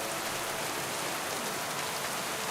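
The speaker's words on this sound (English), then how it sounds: "the rain effects are a little wonky" Steady rain in the Kingdom Come Deliverance 2 video game, a dense even hiss of drops falling on surfaces that holds at constant loudness throughout with no voices.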